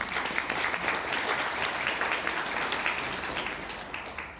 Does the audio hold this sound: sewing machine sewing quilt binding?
no